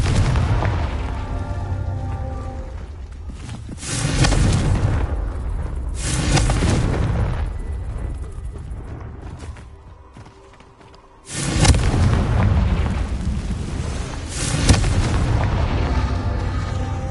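Repeated fiery blasts of the Confringo spell in Hogwarts Legacy, several loud booming explosions with long rumbling decays, separated by quieter stretches of game ambience.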